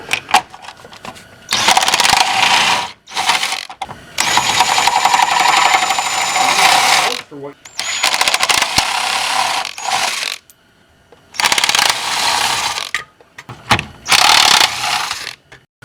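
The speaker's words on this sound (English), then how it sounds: "We're going to take out this bolt for the transmission mounts." A ratcheting wrench works on the transmission mount nuts under an 03-07 Honda Accord, with loud bursts of rapid mechanical clicking and whirring separated by short pauses, close to the listener.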